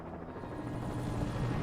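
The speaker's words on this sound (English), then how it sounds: "Helicopter. Where's the helicopter?" A helicopter in the video game Alan Wake flies nearby, its steady low rotor thump and engine drone holding at a fairly even loudness for the brief moment.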